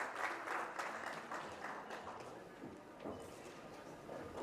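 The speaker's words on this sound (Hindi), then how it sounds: "जोरदार तालियों के साथ." A crowd at a property expo press conference claps steadily, a dense, moderately distant ripple of applause that holds for several seconds without speech.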